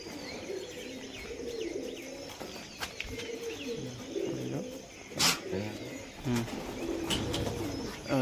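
Pigeons calling at a low-flyer pigeon flying tournament in Nabadwip, with soft repeated coos and chirps over steady outdoor background noise and a few sharp bursts.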